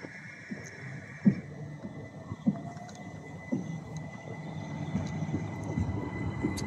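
A train departs Dover Priory station, rumbling steadily at a distance with a few sharp clanks and knocks, the low rolling noise building gradually as it gets under way.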